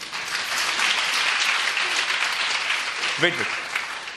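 A church congregation applauds in a sustained, dense burst of clapping during a sermon, loud and continuous, with a brief spoken word near the end.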